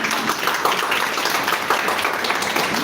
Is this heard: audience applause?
yes